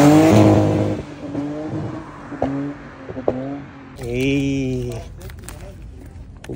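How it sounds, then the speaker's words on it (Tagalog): Cars on a mountain road near Jebel Jais pass close by, with engine drone rising and falling between passes and one car accelerating past at the end, under a speaking voice. "Traffic ka."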